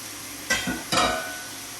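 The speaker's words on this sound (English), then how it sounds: "I'm going to go ahead and add the mushrooms." Mushrooms and vegetables in a pot for pot roast, stirred in two quick scraping bursts over a steady background sizzle, close by.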